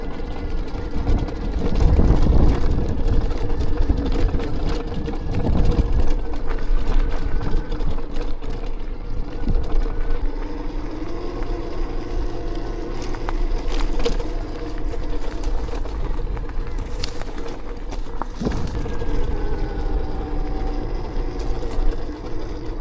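An electric dirt bike rides around outdoors at sunset, its motor giving a steady, loud whirring hum that rises and falls with speed, with some wind and rattle and no talk.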